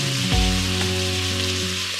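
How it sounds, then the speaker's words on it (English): Pepper-seasoned beef searing in a hot pan sends up a loud, continuous sizzle from start to finish, with a sharp clatter near the start as the meat drops in, no voices. "then we're gonna throw it in here and sear it."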